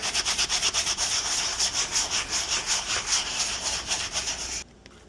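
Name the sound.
rubbing to clean a Louis Vuitton wallet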